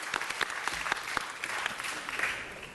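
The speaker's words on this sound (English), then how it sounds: "That deserves an applause." Applause breaks out at a city council meeting, a moderately distant crowd of clapping hands with individual sharp claps standing out in a steady patter.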